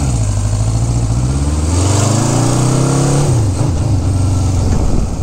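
A 1974 Honda CB550 Four motorcycle, already warmed up, runs close by with a steady, loud engine drone that rises briefly as if revved and then settles back, continuous throughout with no talking.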